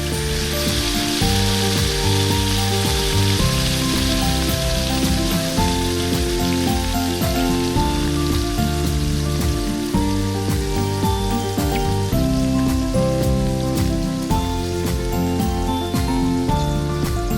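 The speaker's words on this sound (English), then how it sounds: "Now add green chilies, 2 sliced onions, curry leaves and saute well until they are soft and transparent." Green chilies, sliced onions and curry leaves sauté in a pan for a shrimp and prawn dish, giving a loud, continuous crackling sizzle with no break.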